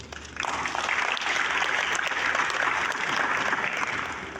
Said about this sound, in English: I believe we deserve a lot of round of applause